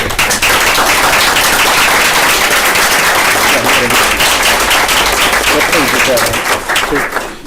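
An audience at a school board meeting applauds the teaching community, with dense, loud clapping that continues steadily and fades slightly at the end.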